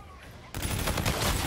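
Aircraft gun run in a video game shooter, a sudden loud burst of rapid gunfire cutting in after a quiet moment and roaring continuously to the end.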